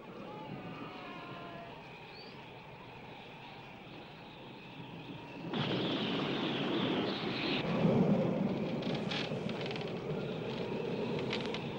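Thunderstorm in a 1977 film about a mountain man and a bear: low rumbling weather that surges into a louder, rolling roar partway through, with faint voices.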